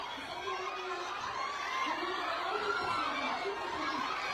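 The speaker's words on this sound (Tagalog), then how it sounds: "Grabe yung hiyawan." Dense crowd screaming and cheering at a movie premiere night, a continuous loud wash of shrieks and shouts with overlapping voices throughout.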